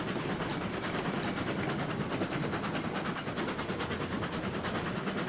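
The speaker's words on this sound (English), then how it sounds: "I feel like this train has a brake on somewhere" A train rolling along in the RailRoads Online video game, a dense continuous rumble of wheels and cars with faint rhythmic clatter, steady and fairly loud with no talk over it.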